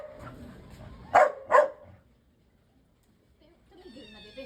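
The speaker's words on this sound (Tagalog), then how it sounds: "Dexter, ang laki ng boses mo." A dog gives two loud, sharp barks close by, preceded by softer vocal sounds and followed by quiet, with a faint voice or tonal sound emerging at the end.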